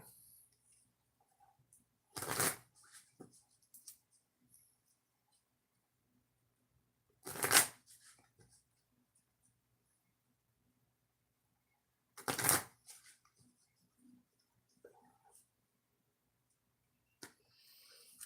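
Cards are shuffled three times at even intervals, each a brief riffling burst, with quiet small clicks and handling noises between.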